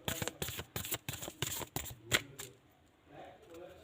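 Tarot-style cards riffled and shuffled in quick bursts for a spiritual card reading, crisp repeated slaps close to the mic before fading into quiet room tone.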